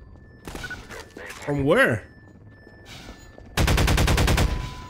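Automatic gunfire in the Half-Life 2: Episode 1 video game, a loud sustained burst of rapid shots near the end after scattered game sounds, with someone talking briefly before it.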